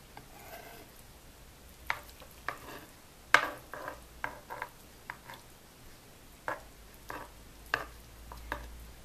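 Egg filling spooned into wraps in a quiet kitchen, soft scattered scraping and tapping clicks of a spoon at irregular intervals, faint and close.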